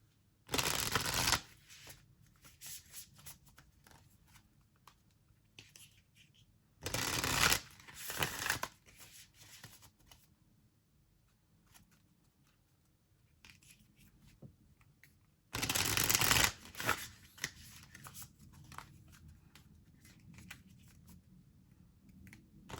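A newer Lantern Oracle deck of slightly large cards being shuffled, three loud close riffling bursts spaced several seconds apart, with quiet handling sounds between them.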